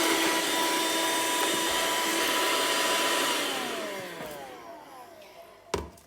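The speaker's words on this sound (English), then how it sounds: "these mini Vacs are available in the mix shop and they're awesome for just getting in these little nooks and crannies here" A handheld mini vacuum cleaner used on a Thermomix TM5/TM6, whining loudly and steadily up close, then winding down in pitch and fading before a small click at the end.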